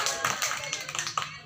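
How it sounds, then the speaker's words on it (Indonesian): A small audience at a church scripture-reading contest claps briefly, a short burst of distinct, slightly uneven hand claps that thins out near the end. "Kita berikan tepukan tangan."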